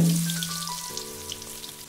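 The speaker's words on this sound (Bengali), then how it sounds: "তেল এসে গেলে একটা একটা করে এভাবে চিকেনকে ছেড়ে দিলাম" Chicken pieces, pakora-style for chilli chicken, dropped one by one into hot oil to deep fry, giving a close, steady crackling sizzle with scattered popping droplets.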